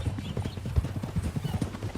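Horse hooves clip-clop in a quick, steady rhythm of close, dull thuds, a ridden horse moving at a walk in a western game with no talk over it.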